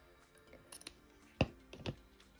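Scissors trim the ribbon end on a corner-bowed boutique hair bow, giving two crisp, close snips about half a second apart after a few faint handling rustles.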